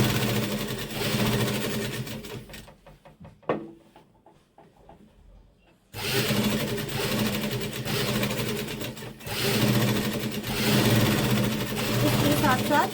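An electric sewing machine top-stitches seams on a co-ord set with a coat collar, whirring in sustained fast runs, stopping for a few seconds, then starting again close up.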